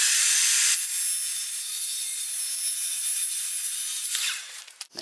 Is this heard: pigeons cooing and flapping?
no